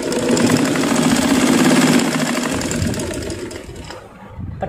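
A sewing machine stitches a blouse strap made from an old T-shirt, a loud rapid mechanical whirring run for about two seconds that slows and fades, followed by a faint clatter as it stops.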